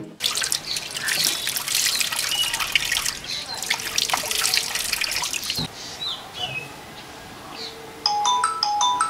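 A mobile phone ringtone plays as a repeating electronic melody that grows clearer near the end. Running tap water trickles in the background.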